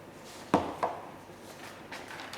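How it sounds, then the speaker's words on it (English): Two eggs crack sharply against a bowl in quick succession, two crisp taps followed by faint softer sounds in a quiet kitchen during baking of an Eve's pudding. "I'll crack those into the bowl."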